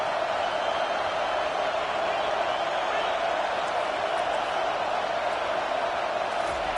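Football stadium crowd in a Madden game, a constant broad roar holding at an even level throughout, with a play-by-play voice talking over it.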